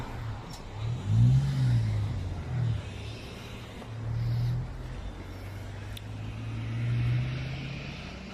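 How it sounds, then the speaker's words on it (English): Several vehicles drive out past the gate of a military air base one after another, their low engine hum rising and falling as each goes by close to the listener, with no talk. "Wait for these vehicles to pass."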